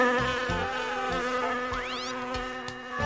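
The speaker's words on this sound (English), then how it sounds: "While flying around, Buzzy Bee meets a bald eagle." Cartoon bee buzzing steadily as it flies, a continuous insect drone over light background music from a children's story.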